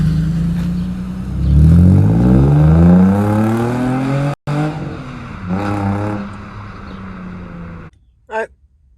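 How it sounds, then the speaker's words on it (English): A Nissan 350Z engine revs and climbs through the gears as the car pulls away, rising and falling in pitch, then cuts off abruptly near the end. "I'm gonna give it a little test drive"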